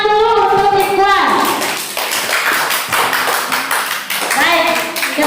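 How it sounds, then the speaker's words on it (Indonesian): A group of children clapping in a classroom, brisk and fairly loud, with a voice and other voices heard over it at the start and end. "Tepuk tangan dulu untuk Ikhwan"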